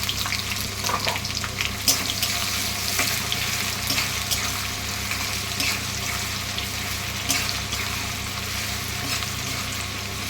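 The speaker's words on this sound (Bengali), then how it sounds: "পেঁয়াজটা আমি লাল লাল করে ভেজে নেব" Four chopped onions fry in a pan with cumin and garam masala, giving a continuous close sizzle with scattered crackles and occasional stirring taps.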